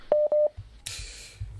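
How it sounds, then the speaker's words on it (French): Two short touch-tone dialing beeps sound clearly on a radio call-in phone line, followed by faint line noise and clicks as the call connects. "Au téléphone, toujours, ça sonne."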